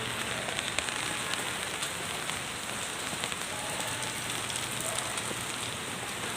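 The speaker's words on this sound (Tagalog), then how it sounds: "Ulan pa, Mar." Steady rain falls during a typhoon in the Philippines, a dense, even hiss of drops on surfaces that holds constant throughout with no voices.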